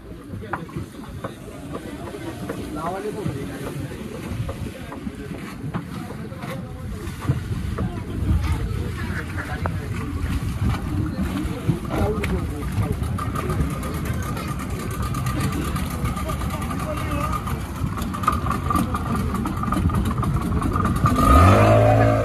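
Banana boat ride on the sea in Goa: loud, constant rushing of wind and waves with engine-driven boat noise, people talking amid the roar throughout.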